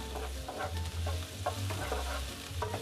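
One large white onion sautés in a pan, giving a soft, steady sizzle broken by repeated scraping stirs, with no voices over it.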